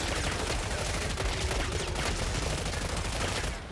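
A drum-mag gun in Killing Floor 3 firing a continuous, dense burst of rapid shots, loud and unbroken for several seconds before cutting off abruptly.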